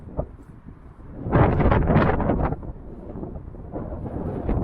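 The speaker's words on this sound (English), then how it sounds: "Oh, it's windy. It is. It's blowing in." Gusty wind blowing outdoors, rumbling and buffeting against the microphone, swelling to a strong surge partway through before settling to a steadier, softer rush.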